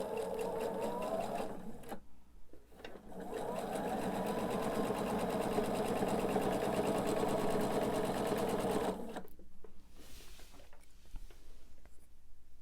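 A sewing machine runs a scant quarter-inch seam in a long, steady whirring burst of about six seconds, with brief starts just before, heard close over a quiet room hum.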